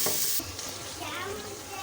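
Potatoes frying with mixed vegetables in a pan, a steady close sizzle and bubbling that starts brighter and settles slightly, with no voices over it.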